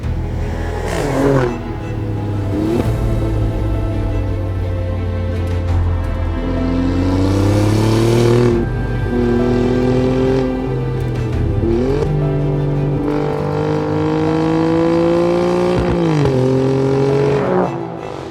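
A 2024 Alfa Romeo Giulia Quadrifoglio accelerating hard, its loud, close engine note climbing through the revs and dropping sharply at several gear changes, with no talk.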